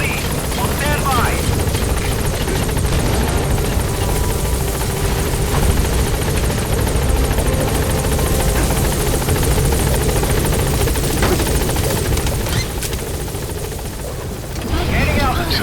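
Loud, steady helicopter rotor and engine roar from the Pequot transport chopper in the Metal Gear Solid V: The Phantom Pain video game, holding at a landing zone then lifting off, with radio voice chatter layered over the continuous drone.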